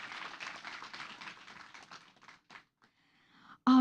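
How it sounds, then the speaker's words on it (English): Audience applause at a Ramadan cooking event, a dense wash of many clapping hands that fades out over a few seconds into near silence, before a loud abrupt sound at the very end. "can I have a big round of applause?"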